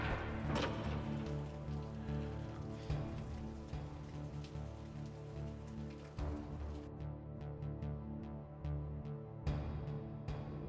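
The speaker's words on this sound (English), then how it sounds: "Oh, it's raining." Steady rain in the video game Metal Gear Solid patters continuously under a low, droning ambient hum, with occasional sharper drops and crackles; no voices.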